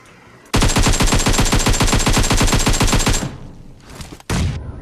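Sustained rapid automatic gunfire from a video game, a loud rattling burst lasting close to three seconds, followed by a quieter stretch and then a short second burst.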